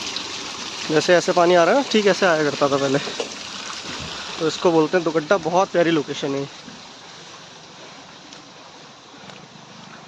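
A steady rush of flowing water from a waterfall at Dugadda, which continues alone after someone talks over it for most of the first six seconds.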